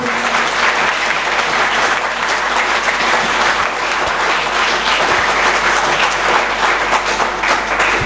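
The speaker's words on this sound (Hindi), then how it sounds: "मैं चाहूँगा कि हमारे सभी साथी हमारे उन जवानों के लिए एक बार जोरदार तालियां बजाएं।" A large audience at an anniversary celebration breaks into loud, sustained applause for soldiers on Kargil Vijay Diwas, a thick, unbroken wash of clapping from start to finish.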